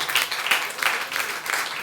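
Church congregation clapping in worship, a dense broadband patter of many hands with rhythmic bursts, close and steady throughout.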